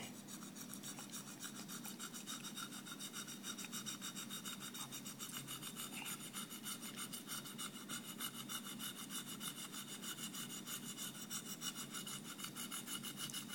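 An apple's skin is scraped over and over, a faint, continuous dry rasping close by with a steady back-and-forth texture and no voices.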